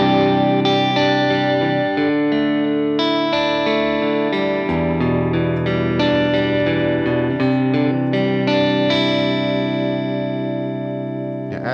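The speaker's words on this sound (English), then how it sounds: "Here's my signal without any compressor." Electric guitar played through a pedalboard of effects with no compressor engaged, heard alone as a continuous, fairly loud stream of sustained chords and notes with chorus-like shimmer and some dirt, no voice over it.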